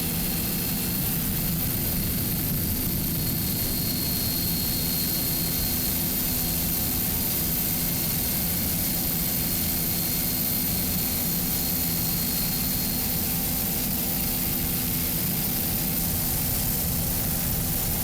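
Racing powerboat engines in the Super V light class, including Mercury engines, roar at Fort Myers in 2005, a loud, continuous, unbroken drone with heavy low rumble throughout.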